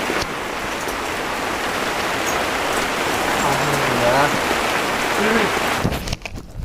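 Light drizzle falls at a mountain campsite while a tent goes up, a steady, close hiss of rain on surfaces, with brief faint voices in the middle and a sudden handling clatter at the end.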